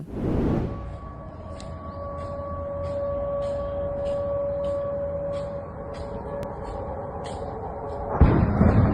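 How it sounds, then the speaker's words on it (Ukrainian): A sudden heavy boom opens, then a steady droning tone holds beneath rumbling noise, and another loud burst erupts near the end. "Прогреміли потужні вибухи."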